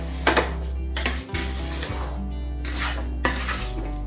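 Rava upma being stirred in a wide pan over a low flame, a spoon scraping and clinking against the metal in a few distinct strokes over a steady background hum.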